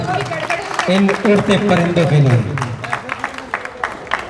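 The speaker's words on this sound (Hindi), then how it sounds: "जोरदार तालियां" An audience at a college Independence Day programme claps loudly for contest participants, with broadband applause under a speaker's voice at a microphone, continuing with scattered claps after the speech pauses.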